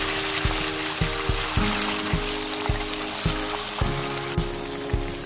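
Water poured into a hot pan of shiitake mushrooms, a continuous splashing sizzle with a steady liquid rush, punctuated by regular soft taps and clinks over a faint background tone.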